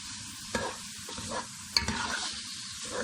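Royal carrot halwa cooking as grated carrots fry in ghee, a steady close sizzle punctuated by a few sharp spoon scrapes and stirring knocks.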